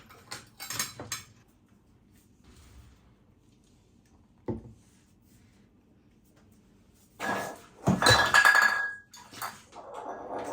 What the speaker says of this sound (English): There's some ice cubes into our glassware.